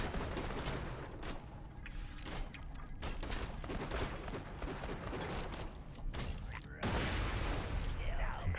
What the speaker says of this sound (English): Interesting grenade.